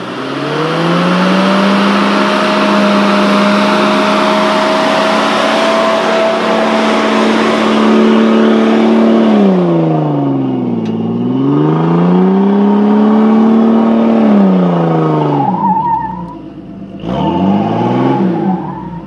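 A Toyota Tundra pickup in two-wheel drive climbs a hill near a lake, its engine droning loud and steady, then rising and falling through several revs as it labors, briefly cutting out near the end.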